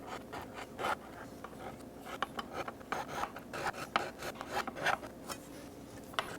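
A metal file levels the frets on a guitar kit, close and fairly quiet, in a steady rhythm of short rasping strokes with no talking.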